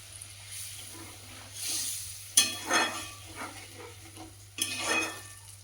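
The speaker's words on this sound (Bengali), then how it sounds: "ঝোলটা ফুটে উঠেছে" Prawn curry gravy in a home kitchen pot, made with yogurt and simmering after water goes in, bubbles and sizzles steadily, with a few sharp stirring and utensil knocks against the pan.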